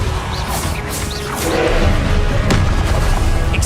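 The Repulsor spell is cast in Hogwarts Legacy, a loud whooshing burst that swells into a heavy, rumbling boom, alone with no voice.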